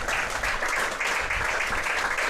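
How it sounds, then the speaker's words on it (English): A football crowd at Vauxhall Road, Hemel Hempstead, applauds steadily on a drizzly day, a sustained wash of many hands clapping at once, loud and even throughout, with no voices standing out. "Applause ringing out for Spencer McCall, just 26 years of age."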